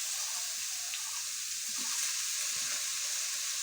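Leafy greens fry in a pan with browned onions, giving a steady, bright, hissing sizzle that holds evenly from start to finish with no voices.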